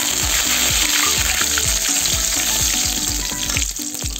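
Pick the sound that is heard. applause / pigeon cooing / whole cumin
whole cumin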